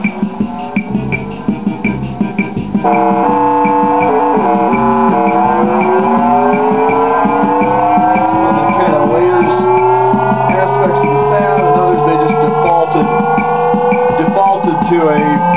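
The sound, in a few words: Conn Electric Band 'blast off' sound effect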